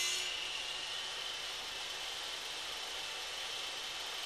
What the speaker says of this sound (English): Here we're chamfering a small octagon, well supported by the bevel ripping guide, with a sandpaper-faced batten underneath it for extra grip.